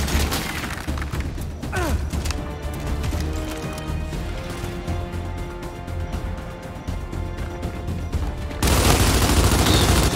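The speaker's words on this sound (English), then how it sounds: "Those are shooting down on us." Gears 5 combat with enemies firing down from above: continuous rattling automatic fire and thudding impacts close by, followed by a louder, harsher burst near the end.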